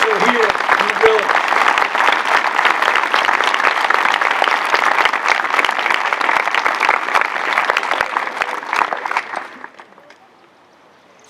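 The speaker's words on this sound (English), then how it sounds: "Please join me in acknowledging with a round of applause the efforts of all who make Memorial Day so special here in the village." Steady audience applause at a 2019 Memorial Day parade ceremony in Tariffville, a village setting. The clapping is dense and sustained for about nine seconds, then fades out, leaving near silence.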